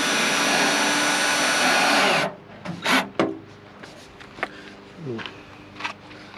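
Self-tapping screws being driven into a greenhouse plastic rain gutter: a loud continuous power-driver whine for about two seconds, stopping abruptly, followed by scattered clicks, scrapes and handling knocks close by.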